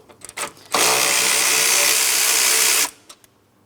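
A power tool, likely an impact wrench, whirs in one steady burst of about two seconds while loosening a 10 millimeter bolt on a radiator bracket of a 2004-2008 Pontiac Grand Prix 3.8L V6, with faint clicks before and after.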